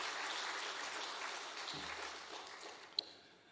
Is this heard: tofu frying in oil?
no